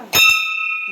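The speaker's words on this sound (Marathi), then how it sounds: "आपली घंटी तरी वाजाव" A single temple bell is struck once, loud and close, then rings on with a clear sustained tone. Faint voices murmur near the end.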